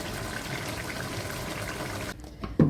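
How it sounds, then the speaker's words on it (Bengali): Meat with its broth poured into a pressure cooker, a steady wet rushing flow for about two seconds, close and moderately loud, ending in a couple of soft knocks. "দেখো বন্ধুরা প্রেসার কুকারের নিচে মাংসের ঝোল সমেত দেওয়া হচ্ছে"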